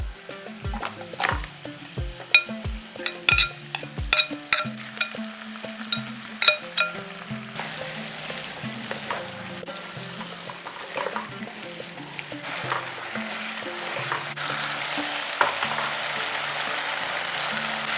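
Marinated okra goes into a pan of fried ginger paste. First come a series of sharp clinks and taps, then a rising, steady sizzle of frying that gets denser toward the end.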